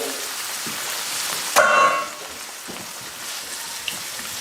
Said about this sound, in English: I'm going to add my fire roasted diced tomatoes